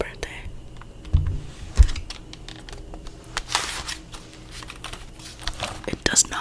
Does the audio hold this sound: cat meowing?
no